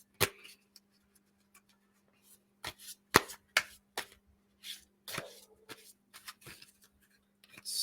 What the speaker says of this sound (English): let's see if I can actually get a good shuffle today